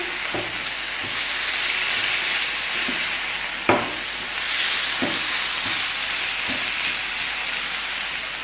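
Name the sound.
chicken added to garlic butter pan and stirred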